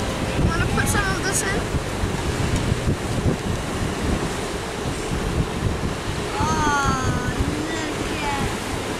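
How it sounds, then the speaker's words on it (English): Strong wind blasts across open water during a fishing trip, with a constant loud roar and buffeting on the microphone, surf washing underneath, and a voice briefly heard. "It's really windy today."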